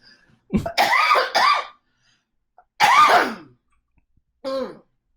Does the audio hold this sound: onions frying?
no